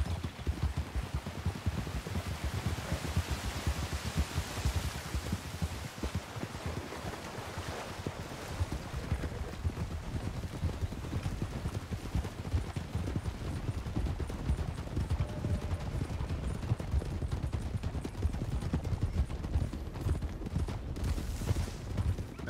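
Horse hooves clip-clop steadily in the RedM game world, a continuous rhythmic patter under wind and ambient outdoor noise, with no talk over it.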